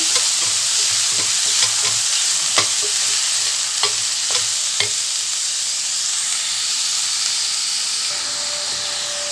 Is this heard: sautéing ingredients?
yes